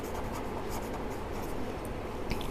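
Pen scratching steadily across paper while a pie chart is drawn in a class 8 maths lesson, a continuous close scribble with small strokes and no talk.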